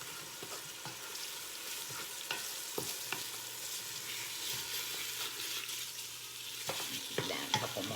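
A teaspoon of seasoning sprinkled into hot oil in a pan for Southern spaghetti sauce is stirred, giving a faint, even sizzle with repeated light scraping strokes close by.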